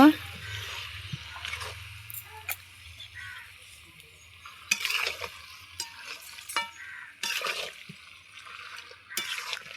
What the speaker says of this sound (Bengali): আরও একটু নাড়াচাড়া করে নেব